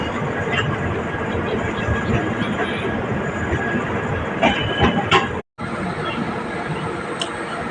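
A passenger train travels on rails between stations in coastal Karnataka, a steady dense rumble with rattles and faint clatter throughout, broken by one brief dropout, with some voices mixed in.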